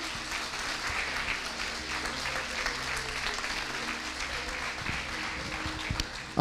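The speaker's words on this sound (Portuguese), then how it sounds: "Aplauda ao Senhor bem forte" A congregation at a church service applauds steadily, dense clapping holding at an even level throughout, with faint voices mixed in.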